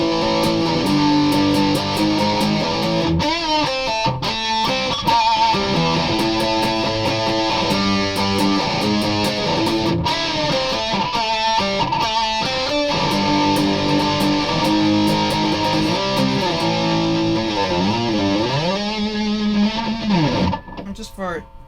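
Electric guitar played through a Behringer Ultra Metal distortion pedal, loud and saturated, with chugging riffs and sustained chords that bend and slide, heavily compressed and continuous throughout.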